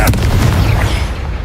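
A Confringo fire spell explodes in the video game Hogwarts Legacy, a single heavy boom with a rumbling low-end tail, loud and up front with no talk.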